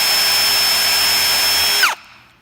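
Power drill cutting a countersink into a pre-drilled hole: a loud, steady high whine running for about two seconds, then winding down quickly as the trigger is released.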